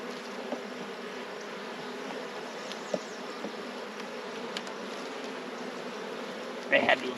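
Honeybees buzz steadily around an open production hive, a dense droning hum close by, with a few faint knocks and a brief louder rustle near the end.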